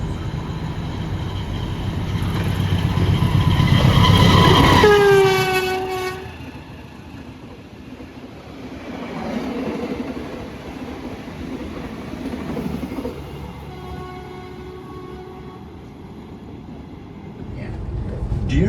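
KA Jayakarta Premium passenger train in motion, with a loud horn blast, steady rumble and rail clatter, and people talking now and then.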